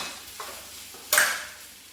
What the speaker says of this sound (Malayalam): ഇനി ഒന്ന് ഇതൊന്ന് കടുകും കൂടെ വറുത്ത് കൊടുക്കണം